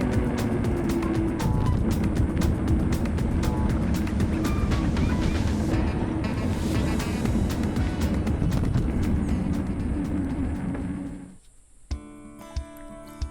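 A motorbike rides down a street in Uvita, Costa Rica, its engine a steady continuous drone close up, until it drops away near the end into quieter ambient noise with a few light clicks.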